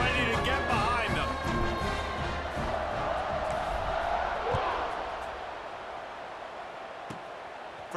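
Stadium crowd noise in College Football 26 at an Iowa State home game against Delaware, a broad steady roar with cheering just before kickoff that slowly eases off, voices mixed throughout the crowd.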